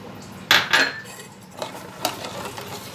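A spoon knocks and scrapes against a pot of sama rice kheer with makhana and sugar, giving two sharp metallic clanks followed by softer stirring taps and scrapes, close and alone.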